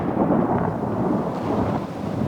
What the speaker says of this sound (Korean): 천둥 번개까지 쳤습니다.